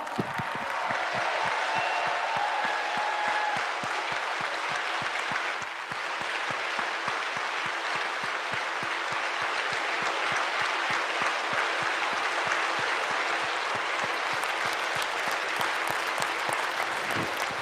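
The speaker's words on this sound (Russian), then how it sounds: "мы можем устроить ей овацию" Sustained audience applause at a company anniversary event fills the hall, dense and steady with many individual claps audible, holding at an even level for well over fifteen seconds with only a brief dip midway.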